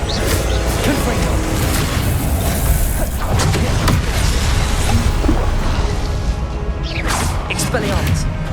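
Confringo spells detonate in Hogwarts Legacy, with loud booms and crashing bursts over a dense layer of combat whooshes and impacts.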